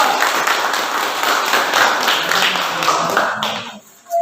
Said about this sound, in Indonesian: Dan sekarang kita berikan aplaus kepada kelompok 2.